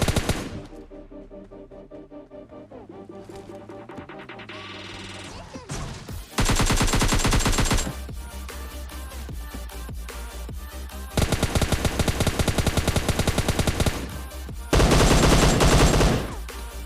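Bursts of loud automatic gunfire from PUBG Mobile Lite erupt in long, rapid rattling volleys after a quieter opening of game sounds, with sustained dense firing in several stretches.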